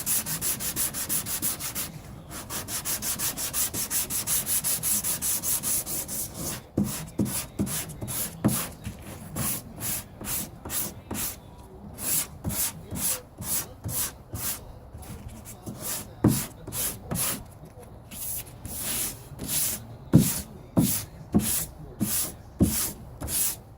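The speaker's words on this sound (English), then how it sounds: "So we need to sand that out too to get all of it out" Hand sanding of Bondo body filler on the driver's quarter panel of a 2003 Cadillac CTS: a steady rasping hiss at first, then close, rhythmic back-and-forth strokes repeating for about twenty seconds.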